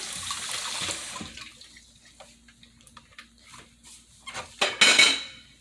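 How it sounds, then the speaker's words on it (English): A red snapper being rinsed under a running kitchen tap, water splashing softly with dish clatter at first, then quieter bursts and a louder gush near the end. "Now you're going to look inside the fish. And you're going to rinse it out again."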